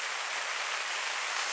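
Heavy rain pours down steadily beside a river, a dense even hiss of drops hitting surfaces close by, with no voices.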